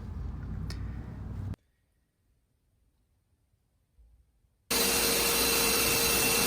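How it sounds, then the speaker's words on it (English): Belt sander clamped vertically to a worktop shaping wooden chair legs, a loud broadband whine that runs, cuts out to near silence, then starts again even louder and steady. "And I did this by clamping my belt sander vertically onto my worktop."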